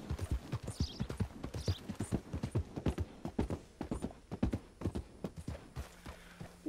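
Steady clip-clop of horse hooves trotting at a quick, even rhythm, fairly close, with faint background noise and no talking, from the video game Red Dead Redemption 2.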